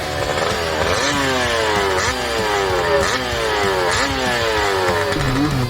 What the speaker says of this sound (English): The KDX 200 wasn't a disguised trail bike or an adapted motocross bike